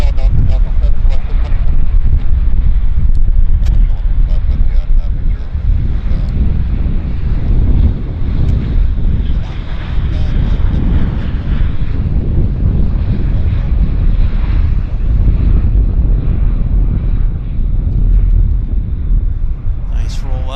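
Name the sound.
WestJet airliner rollout at Vancouver airport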